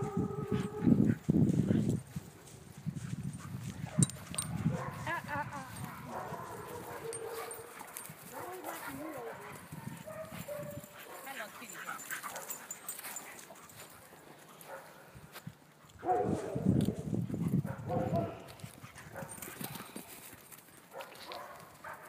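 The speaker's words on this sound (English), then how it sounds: "For the noisy black dog." A black Doberman barks on a pack walk outdoors, with bursts of loud, close barking at the start and again around two-thirds through, among footsteps, rustling and other dogs' noises.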